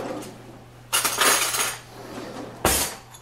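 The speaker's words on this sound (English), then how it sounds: "And very simply just mix it all up." Cheesecake batter of vanilla and sugar mixed in a bowl, heard as two sharp bursts of utensil scraping and clinking against the dish separated by quieter pauses.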